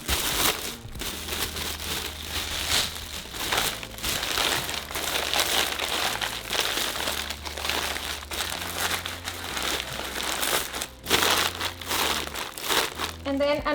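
Brown paper crinkles loudly and continuously as sheets are layered into a pot lined for basket tacos with potato and chorizo, while a voice speaks over the rustling.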